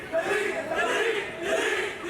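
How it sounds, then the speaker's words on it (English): Crowd at a grappling match reacts with a loud, disapproving roar of shouts and jeers, rising and falling in waves over a couple of seconds. "Oh, the crowd did not like that."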